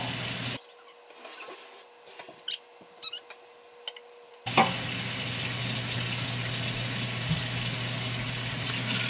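Water runs from a kitchen tap for hand washing, a steady close hiss that cuts out briefly with a few clinks and small knocks before the full flow returns and continues.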